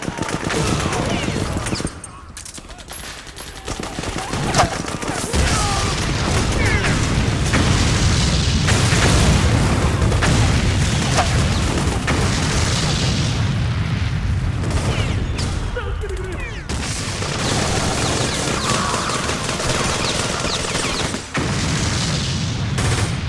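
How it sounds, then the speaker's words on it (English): Grenade blasts and bursts of gunfire in Metal Gear Solid 4 during a fight with PMC soldiers: dense, continuous battle noise with deep booms, a sharp drop near two seconds and another break around sixteen seconds. "from this position, I can throw a grenade behind me"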